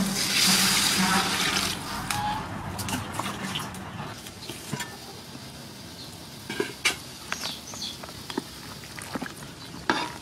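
Water pouring into a cooking pot over ingredients like lemongrass and kaffir lime leaf, a loud splashing burst at first that settles into bubbling, with small clinks and stirring sounds after it.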